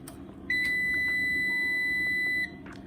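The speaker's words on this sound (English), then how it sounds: "The beep just informs you that it's now on." One steady electronic beep from a power inverter switching on, high and pure, holds for about two seconds over a faint background hum.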